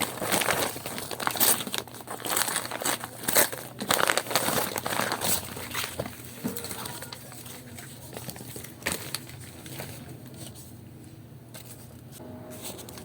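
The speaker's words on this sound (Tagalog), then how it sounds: "Ay punitin natin ito guys." Gift wrapping paper torn open and crumpled by hand during an unboxing, busy crinkling and ripping close up, loudest early and tapering to softer rustles toward the end.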